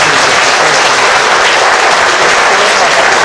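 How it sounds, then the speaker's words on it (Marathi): A large audience applauds loudly at a public gathering, a dense, continuous roar of clapping that holds at full strength from start to finish. "सगळ्यांचे हात दोन्ही हात वर करायचा आणि जोरदार टाळ्या वाजवा"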